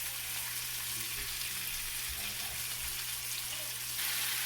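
Tomatoes frying in a pan with a little salt, giving a steady, even sizzle throughout with a low hum beneath and no talk.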